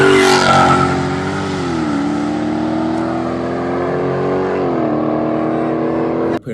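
Boosted car with a small 2.3-liter engine revs hard and holds a loud, sustained roar with shifting pitch, close up, ending in an abrupt cut.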